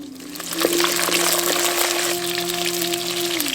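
Chana dal is added to hot groundnut oil in a pan, producing a steady, close sizzling hiss that holds for a few seconds.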